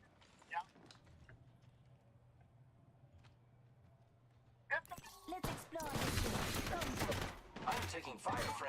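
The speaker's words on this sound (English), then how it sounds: "I'm taking fire, friends." Rapid video game gunfire bursts out suddenly partway through, loud and dense, after a quieter stretch of low background noise and faint clicks.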